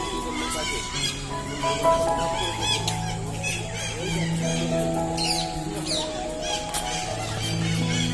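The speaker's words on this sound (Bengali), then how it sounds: "এখানে কত পাখির আওয়াজ হচ্ছে তোমরা শোনো একটুখানি" Birds call and squawk around an aviary at Burdwan zoo, with chicken-like clucks and chirps layered over one another, while children and adults talk nearby.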